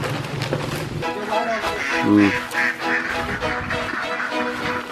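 Ducks quack in irregular bursts near a duck pen on a small farm, mixed with voices and some wind and movement noise close by.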